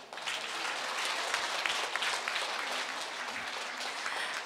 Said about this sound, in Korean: 박수 한 번 더 힘차게 보내주시길 부탁드리겠습니다